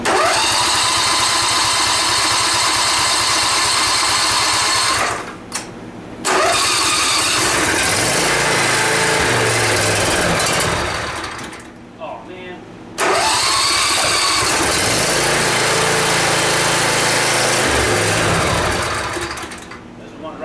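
A Kubota mini excavator's cold engine is cranked with throttle applied, a loud rapid grinding starter churn in three long bursts separated by short pauses, with someone speaking nearby.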